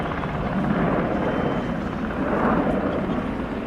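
Aircraft engine at the RIAT 2025 air show, a steady, loud broadband roar that swells slightly midway as the display plane accelerates, with no talk over it.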